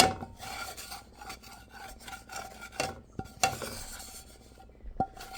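Ground coriander, cumin, turmeric and chili are stirred and fried in a pan for a rui fish head muri ghonto, making close rasping scrapes and a soft sizzle with occasional sharper knocks.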